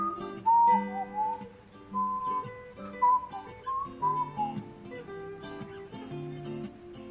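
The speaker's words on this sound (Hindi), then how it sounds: "क्या आप सुन रही हैं? वो सीटी बजा रहा है।" A man whistles a short melodic tune in clear, wavering phrases, fairly close and alone over a quiet background with no talk.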